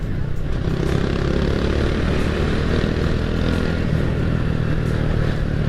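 Honda Astrea Grand motorcycle fitted with a reamed Karisma carburetor, heard on a test ride as a loud, continuous engine drone mixed with heavy wind rush.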